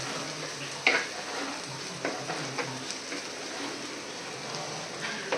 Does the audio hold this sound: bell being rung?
no